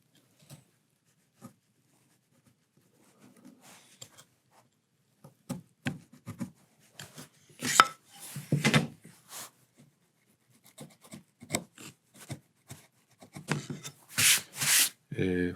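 A chisel cuts a shallow hole into a wooden Nanking spokeshave body, giving sparse, quiet taps and short scraping cuts that start faint and grow into clustered rasping strokes with pauses between.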